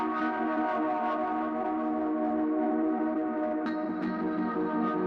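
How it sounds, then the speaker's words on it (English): A lush electric piano lead plays sustained, chordal tones with auto-panning, reverb and delay in an electronic music track, steady and alone without voices. "in the leads group we have a cool electric piano that was also in the original track"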